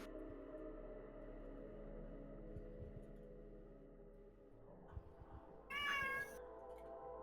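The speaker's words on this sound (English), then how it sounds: "Cat." A single cat meow rises near the end over a low steady hum, after a long quiet stretch.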